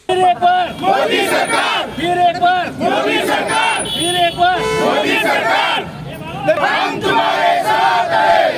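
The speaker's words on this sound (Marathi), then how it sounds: "या प्रसंगी कार्यकर्त्यांनी घोषणाबाजी केली" A large crowd of BJP workers shouts political slogans in loud, rhythmic unison, celebrating Narendra Modi becoming Prime Minister, voices rising and falling in repeated bursts that keep going for the whole stretch.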